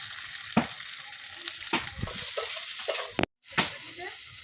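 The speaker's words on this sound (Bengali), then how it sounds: "এই যে বন্ধুরা আমি ভালো করে কষিয়ে নিয়েছি তরকারিটা" Spiced vegetable curry with lentil fritters fries in a pan with a steady sizzle, broken by the scrape and clack of stirring at irregular moments. A short silent gap comes near the end.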